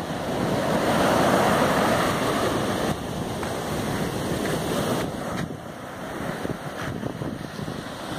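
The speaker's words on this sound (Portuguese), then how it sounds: "essa coisa relaxante, o mar" Sea waves rolling onto a beach, a steady, loud wash of surf with wind rushing across the microphone and no voices over it.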